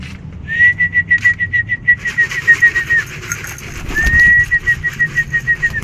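Pigeons at feeding time give quick, rhythmic pulsing coos, broken by a sustained whistle. The birds sound near and loud, with no talk.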